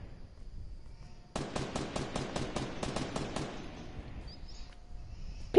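Rapid burst of about ten sharp gunshots from an automatic weapon in a shooting video game, loud and close, fading into a brief ringing tail over quiet background.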